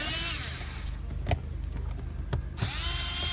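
A power driver whirs close up as screws come out of a 2004–2006 Scion xB speedometer cluster, a loud buzzing run broken by brief pauses and clicks.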